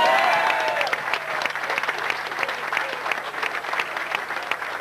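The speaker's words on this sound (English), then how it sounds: "I think you deserve to give yourselves a round of applause just for that." An audience at a Manchester United supporters' club premises opening in Msida applauds steadily, a dense, even patter of many hands that fades slightly over several seconds.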